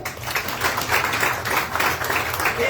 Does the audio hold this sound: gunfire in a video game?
no